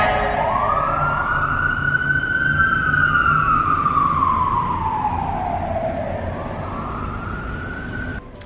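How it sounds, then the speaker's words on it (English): An ambulance siren passes on a Los Angeles street, one loud sweeping wail that rises, holds, then falls in pitch as the vehicle goes by, with steady traffic noise underneath. "let's wait for this ambulance to pass."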